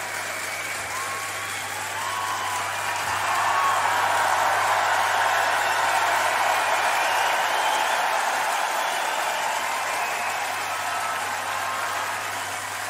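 Applause and cheering from a large concert audience rolls on continuously, a thick wash of clapping that swells slightly midway and holds steady throughout, with no break.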